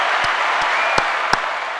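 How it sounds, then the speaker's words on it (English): A steady wash of crowd applause and clapping fills the clip, with a few sharper individual claps standing out. "let me see if my applause is working."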